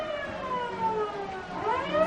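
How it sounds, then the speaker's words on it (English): Sirens wail continuously at a South Florida high school football game late in the fourth quarter, rising and falling tones layered over steady crowd and stadium noise, fairly distant and sustained. "The sirens are blazing."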